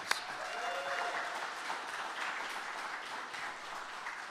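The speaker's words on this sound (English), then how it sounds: "So give yourself a round of applause." Applause from an audience at a museum groundbreaking ceremony fills the whole stretch as a steady, moderately distant wash of clapping hands.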